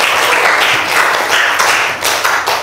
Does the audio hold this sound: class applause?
yes